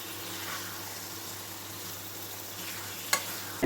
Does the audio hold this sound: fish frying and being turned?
yes